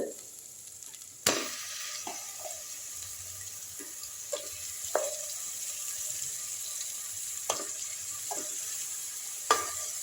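Ground masala paste sautéing in oil for an egg kothu parotta salna: a steady, fairly soft sizzle runs throughout, punctuated by sharp spoon taps and scrapes against the pan every second or so.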